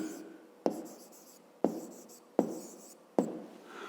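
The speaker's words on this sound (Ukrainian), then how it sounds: "Отже, записуємо." A pen writes out a fifth-grade math solution on paper, making four distinct scratching strokes at a regular, unhurried pace, close and quiet with no talk.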